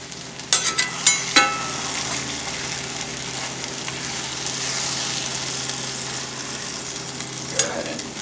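Food cooks in a pan with a constant, close sizzle, and a few quick scraping clatters from stirring come near the start and once more near the end.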